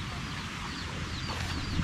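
A hungry chicken at a fish pond farm clucks softly in short repeated calls, faint and near, over low background noise.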